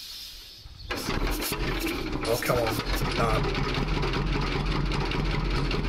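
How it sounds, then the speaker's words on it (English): Old John Deere tractor in a farming video game cranking and starting after a brief quiet, then settling into a loud, steady idle with someone talking over it. "You can tell it's an old tractor."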